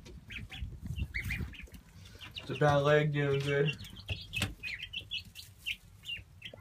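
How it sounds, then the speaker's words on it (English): Young ducklings and chicks in a brooder, peeping and calling with a loud burst of bird calls in the middle, heard under a person talking nearby. "They're all very friendly chickens and ducks."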